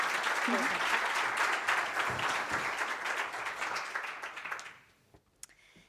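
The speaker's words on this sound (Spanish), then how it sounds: "un fuerte aplauso para Elena" Audience applause for a speaker named Elena at the Mulleres dos Mares women's event, dense and sustained for several seconds before tapering off and fading to near silence, with a few stray claps at the end.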